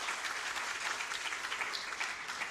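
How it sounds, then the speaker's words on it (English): Attendees at an annual meeting's welcome session applaud a program coordinator, with steady, full clapping from a room of people continuing evenly across the whole stretch without speech. "Let's please round of applause for Lucy."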